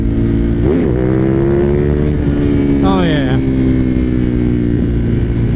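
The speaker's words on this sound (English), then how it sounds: "So first gear, just do a little power wheelie. Oh yeah, so easy. Second gear wheelie." A high-mileage Suzuki TL1000R V-twin motorcycle engine pulls hard under load during a second-gear wheelie, a loud, steady drone rising in pitch with a brief surge midway, close and continuous.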